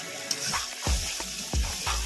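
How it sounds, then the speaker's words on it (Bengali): Chili and cumin spice paste being stir-fried in hot oil for chicken biryani, with sizzling and several distinct scraping stirs of a spatula against the pan, close and clear. "মশলাটা এখন খুব ভালো করে কষিয়ে নেব।"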